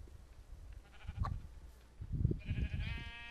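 Sheep in Minecraft bleat a few times, the cries rising in short harmonic bursts near the end over a low, rumbling game background.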